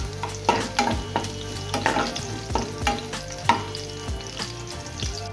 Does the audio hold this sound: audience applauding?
no